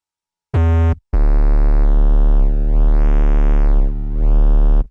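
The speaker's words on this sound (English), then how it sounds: "The first layer is a basic 808 bass. Very simple. It's just a sine wave. And we're distorting this sine wave with a soft clip" A synthesized 808 sine-wave bass, soft-clipped for distortion with the highs filtered out, plays a short loud note, a brief gap, then a long sustained, deep, buzzy tone that dips twice in pitch, alone with no voices.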